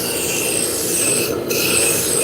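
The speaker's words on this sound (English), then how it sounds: "Now I'm going to switch from my roughing gouge to my spindle gouge. And bring it down to the final size." A spindle gouge shaves a wooden spindle spinning on a lathe, producing a steady, loud, continuous rasping hiss that stays even throughout, with no speech.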